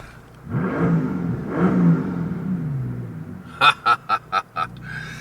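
A Mercedes S65 AMG coupe's twin-turbo V12 revs in two long, rising surges, then fires a quick run of five sharp throttle blips, loud and close with no talking.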